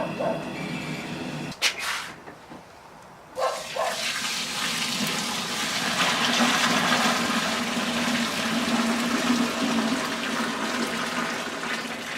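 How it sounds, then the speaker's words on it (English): Hot strike water being poured into a mash tun during an all-grain homebrew day, a loud continuous gushing splash after a brief clunk and a short pause. "I'm going to go ahead and pour it into the mash tun."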